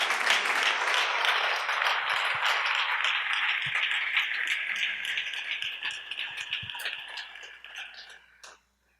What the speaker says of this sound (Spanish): Dele aplauso al Señor en esta noche.